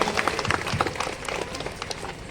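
Crowd applause at an Independence Day flag-hoisting ceremony in Jamshedpur, welcoming the treasurer: a stretch of scattered, uneven claps, moderately loud and thinning slightly toward the end.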